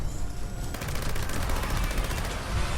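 Rapid, continuous automatic fire from a Gauss minigun in the video game Fallout 76, a dense rattling stream of shots kicking in after a brief charge-up whine and running loud to the end.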